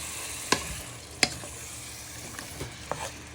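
Squid frying in a pan for a squid and chorizo casserole, a low constant sizzle broken by a few sharp clicks and scrapes from stirring, each distinct and close.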